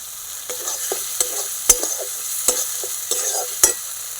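Green chillies fry in hot oil in a pan with a steady sizzle, broken by repeated sharp scrapes and taps of a spoon stirring them, close and without voices.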